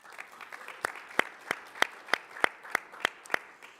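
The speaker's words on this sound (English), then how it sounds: "we'll give them a round of applause as I call their name" Quiet, distant applause greets judges being introduced at a startup competition semi-final, with a handful of crisp claps landing in an even rhythm over a soft, scattered crowd.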